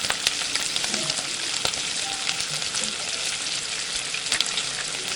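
Cumin seeds sizzling in hot oil in a wok for a Bengali moong dal with fish head, a steady close crackling hiss with occasional sharper pops and light stirring.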